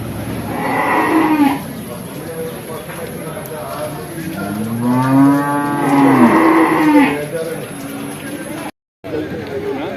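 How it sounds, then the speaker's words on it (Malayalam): Cattle and calves mooing at an outdoor village livestock market, several long, drawn-out moos close by over crowd chatter and someone talking. "ചന്തയിൽ വന്ന പൈക്കന്നുകൾ"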